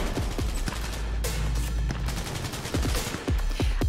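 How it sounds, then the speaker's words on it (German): Rapid bursts of video game gunfire in Cyberpunk 2077 crackle in quick succession, loud and close, with sharp individual shots scattered among the volleys and no talking. "Hab Schüsse gehört."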